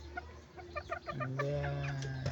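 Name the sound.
Kelso gamefowl chickens clucking at breeding farm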